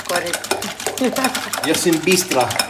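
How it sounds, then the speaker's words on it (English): Eggs being whisked quickly in a bowl for egg fried rice, a busy rapid clatter of stirring that runs steadily throughout at close range, with faint voices in the background. "I'm going to whisk them up"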